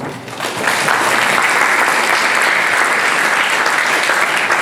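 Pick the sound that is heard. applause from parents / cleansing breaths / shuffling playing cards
applause from parents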